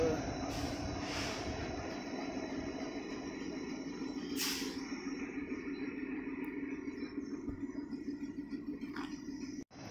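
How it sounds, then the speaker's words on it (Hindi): Ludhiana Express special train of Indian Railways, hauled by a Ghaziabad WAP-7 electric locomotive, waiting at a station platform: a steady low rumble of idling equipment and station bustle runs throughout, with a few brief hissing bursts. "तो गाइज हमारी ये लुधियाना एक्सप्रेस स्पेशल ट्रेन ये हमारी वेब सेवन लोको गाजियाबाद की वेब सेवन लोकोमोटिव के साथ चलती है"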